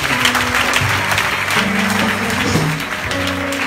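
A church congregation applauds continuously and loudly, a dense wash of clapping with music tones running underneath throughout.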